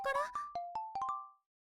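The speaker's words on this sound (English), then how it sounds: "a phone call from Itsuki?" A ringtone in the video game Black Lily's Tale plays a short chime melody of about six bright, tinkling notes in a quick rising-and-falling pattern, clear and close, ending in silence.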